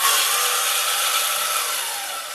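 A noisy electric lift axle on a small trailer runs in a steady, harsh grinding whine that stays loud and even, easing slightly toward the end, with no talk over it.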